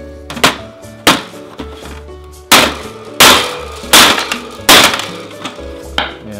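A series of light, sharp hammer taps, about nine of them in a loose rhythm, close and crisp with a short metallic ring.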